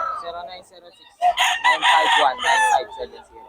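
Fighting cocks crow loudly and close, several overlapping calls after a softer opening, at a gamecock farm in Bocaue.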